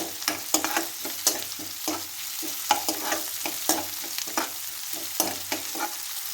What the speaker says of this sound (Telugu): సో ఒకసారి గరిటెతో తిప్పండి అన్ని కలిసేటట్టు.